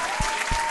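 A crowd claps for the undefeated New York Giants in a short burst of applause, with a couple of low thumps standing out, brief and moderately faint.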